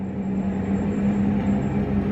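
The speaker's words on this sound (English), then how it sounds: "I need to get on this train" A train heard from inside or close by, a steady low rumbling hum with a constant tonal drone and faint rattle, even and moderately loud throughout, with no talk.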